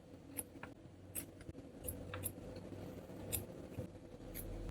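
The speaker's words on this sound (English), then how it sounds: "This is the last snip of today and I'm done" Scissors snip scrap yarn in a quiet room, a series of about eight crisp, short cuts spaced irregularly, close and fairly soft.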